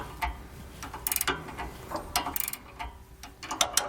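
A ratchet wrench works the bolts of a Roadmaster Reflex steering stabilizer on a 2014 Thor Freedom motorhome, giving quick bursts of clicking and metallic ratcheting in short, uneven runs, close by with no voices.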